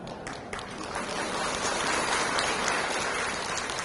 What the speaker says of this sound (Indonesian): Jangan tepuk tangan dulu